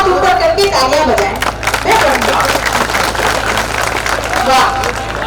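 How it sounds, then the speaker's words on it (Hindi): Audience at an Indian kavi sammelan claps with both hands raised, a loud, sustained wash of applause and crowd noise filling the whole stretch with no pause. "दोनों हाथ ऊपर करके तालियां बजाएं।"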